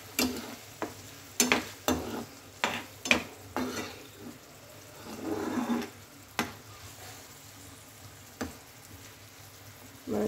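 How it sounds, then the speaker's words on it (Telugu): Ginger garlic paste frying in a pan for a veggie pasta: a low sizzle broken by repeated sharp spatula knocks and scrapes against the pan, with a louder stirring swell midway and no voices. "నేను ఇందులో లైట్గా జింజర్ గార్లిక్ పేస్ట్ యాడ్ చేస్తున్నానండి"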